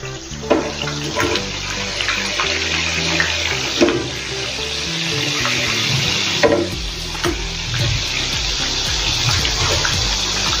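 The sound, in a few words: chakli frying in hot oil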